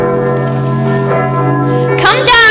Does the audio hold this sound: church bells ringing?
yes